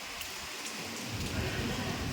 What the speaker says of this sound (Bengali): দুপুরবেলা একটা হঠাৎ করে কালো মেঘ করে এসে একদম বৃষ্টি শুরু হয়ে গেছে।